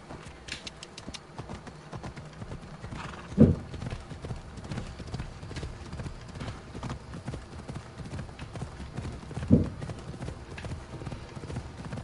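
A horse gallops in Assassin's Creed Odyssey, its hooves clip-clopping in a steady rhythmic beat through the game, with a couple of louder thumps standing out against soft ambient background.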